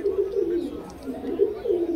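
Pigeons coo steadily at a bustling pigeon market, their low warbling calls rolling in repeated waves, with deshi and vegetable-colored birds on sale and faint crowd murmur around them.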